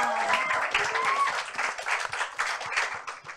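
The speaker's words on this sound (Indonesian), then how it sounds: "Tepuk tangan dulu" Audience applause at an Indonesian talk show production, steady clapping from a crowd filling the whole moment, fairly close and even in loudness with no talk over it.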